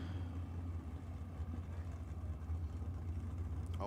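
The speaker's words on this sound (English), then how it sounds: "Big burnouts on both sides of the racetrack for Haley Vella in the Ford Capri" Drag racing car doing burnouts at a drag strip, a Ford Capri: a continuous, loud, steady engine roar with a low rumbling drone throughout, with no clear tire screech standing out.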